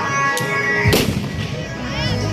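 A single sharp firecracker bang cuts through a noisy Chhath Puja crowd and background music in Chhapra, followed by lingering chatter.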